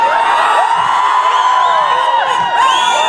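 A crowd at a LUMHS university event cheers, whoops and yells loudly and continuously, many overlapping voices shouting close by with no pause.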